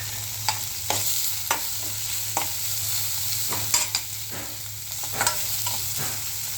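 Chopped garlic and onion sauté in hot oil in a pan, a steady close sizzle broken by irregular scrapes and taps as a spoon stirs them.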